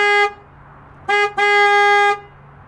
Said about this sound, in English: if you've ever wanted to know what the horn sounds like in a Saleen S7